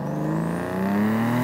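A Subaru Levorg wagon running ethanol with a big turbo and big displacement accelerates hard from a 30 km/h rolling start. The engine note climbs steadily in pitch, close and loud, with no talk.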